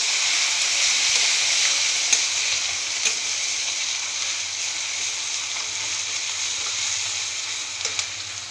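Turmeric and ginger paste sizzle loudly and steadily in hot oil for a Bengali potato, pointed gourd and soybean curry made without onion or garlic, with a few faint clicks of stirring over the continuous frying hiss.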